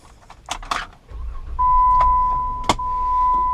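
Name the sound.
Jeep Wrangler power windows operating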